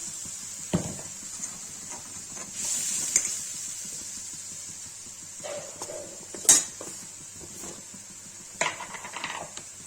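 Chopped tomatoes go into a pan of fried potatoes for Kashmiri aloo paneer, followed by stirring: scattered metallic clinks and scrapes of a utensil against the pan over a low, steady sizzle, with no talking.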